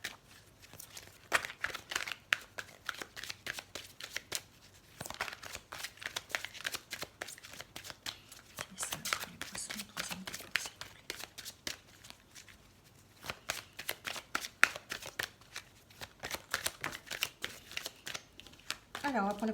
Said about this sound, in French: On va tirer maintenant une carte pour le troisième décan.